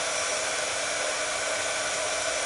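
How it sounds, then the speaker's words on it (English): A crafting heat tool runs steadily in the background, a continuous airy, fan-like whoosh at moderate level, holding constant throughout with no talking. "I've got my heat tool warming up. You can hear that in the background."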